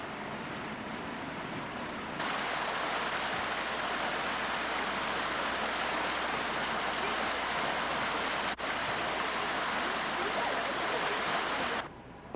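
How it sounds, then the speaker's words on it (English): A small babbling brook by a temple in central Tokyo, Japan: steady broadband rushing water, loud and continuous, with a slight bump midway and no talk. "Beautiful little babbling brook right in the middle of Tokyo."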